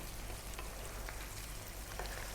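Pasta sizzling and frying in a pan, coated in creamy tomato garlic sauce, giving a steady close crackle with soft bubbling pops throughout.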